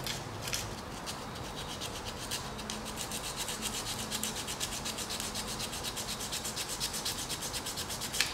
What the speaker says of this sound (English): So we'll try to sand them down first.